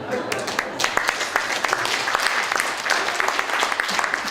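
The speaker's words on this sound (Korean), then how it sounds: "웃음 뒤에 박수로 하답해 주신 걸로 알겠습니다." Audience at a book launch speech in a wedding hall in Yeongdeok claps in dense, sustained applause following laughter, with a few sharper claps standing out and faint voices mixed in.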